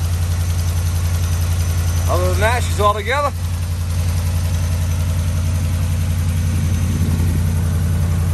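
A Ram 5.7 V8 with an exhaust manifold leak idles steadily and close by, its even low drone continuing under a brief spoken remark.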